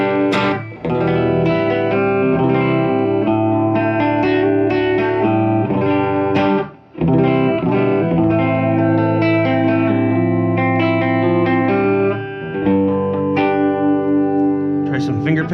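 A Rickenbacker 325C64 electric guitar on its bridge pickup, run through a Holy Grail reverb and a Toro Servo Boost pedal, rings out strummed chords and riffs with bright sustained tones and reverb tails, pausing briefly twice.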